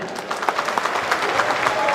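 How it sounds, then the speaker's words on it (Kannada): Audience clapping at a film song launch event, a short burst of dense applause from a crowd with some voices mixed in. "ಶಶಿ ಸರ್ಗೋಸ್ಕರ ಒಂದು ಜೋರ್ ಚಪ್ಪಾಳೆ."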